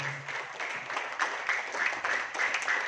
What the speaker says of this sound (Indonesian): Tepuk tangan dong untuk PTPS